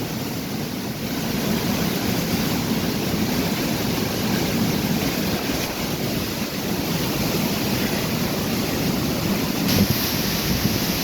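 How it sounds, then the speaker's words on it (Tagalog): Steady wind blowing outdoors during a typhoon, a constant broadband rush buffeting the microphone with no pauses, loud and close throughout. "Hangin naman lang."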